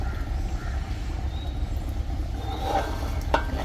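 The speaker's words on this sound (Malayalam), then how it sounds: "ഇപ്പം നല്ലപോലെ തിളയ്ക്കുന്നുണ്ട്" Fish head curry boiling in a pot, a steady bubbling hiss and low rumble throughout, close and moderately loud with a faint clink toward the end.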